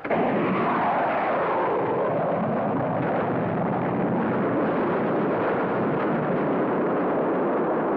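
Spaceship weapon firing effect from a 1950s sci-fi TV adventure series, a loud, sustained roaring blast of dense rumbling noise filling the whole stretch with no talking.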